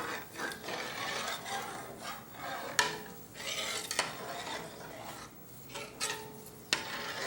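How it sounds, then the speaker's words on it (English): A spoon stirring fresh parsley into a pot of boiled beef brisket, with repeated scraping and rubbing strokes against the pot at an uneven rhythm, close and fairly quiet. "Stir that in there as you stand."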